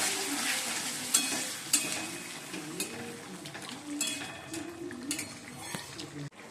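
Chicken frying and being stirred in a pan with onion, capsicum, soy sauce, chili sauce and tomato sauce, a steady close sizzle with scraping spatula strokes and a few clinks against the pan, no talk.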